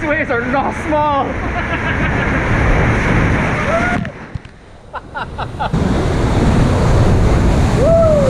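Large ocean waves crashing and surging near a sea cave on the Barbados coast, a loud, continuous roar of surf with a brief lull in the middle, wind buffeting the microphone and a few excited voices calling out over it.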